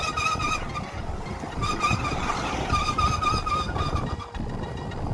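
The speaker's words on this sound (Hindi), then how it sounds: "लॉन्ग राइड के दौरान अगर आपके बुलेट में रेयर ड्रम ब्रेक से इस तरीके की आवाज़ आ रही है" Rear drum brake on a Royal Enfield Bullet motorcycle gives a continuous, close, ringing squeal with a steady mechanical rumble beneath it, which dips briefly near the end.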